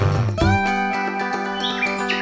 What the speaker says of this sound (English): The bird's song is quiet.